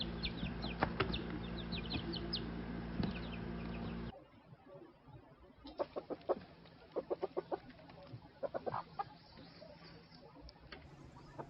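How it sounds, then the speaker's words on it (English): A rooster clucks in a series of short, sharp, irregular calls, first over loud noisy background and then more clearly against a quieter farmyard backdrop. "The rooster."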